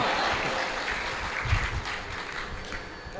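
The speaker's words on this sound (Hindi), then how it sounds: "और तालियां तो इस बात पर बजाइएगा कि वो दोनों बालक जसप्रीत और ब्रह्मजोत" An audience applauds during a humorous talk, a steady wash of clapping that is moderately soft and fairly even throughout, swelling slightly at the midpoint.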